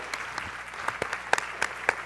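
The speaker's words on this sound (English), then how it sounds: "can we give it another round of incredible applause" A leadership summit audience applauds, a dense wash of clapping with scattered sharper claps, heard from within the crowd for a couple of seconds.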